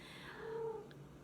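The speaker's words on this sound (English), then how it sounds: "there's a kitty coming." A cat gives a brief, soft meow rising and falling over about a second, with faint purring underneath, fairly quiet and alone.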